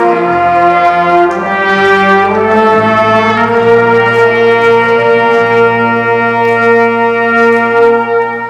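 A high school jazz band sounds a tuning note in concert, a loud sustained chord of brass and reeds holding steady tones with low notes shifting underneath, no talking.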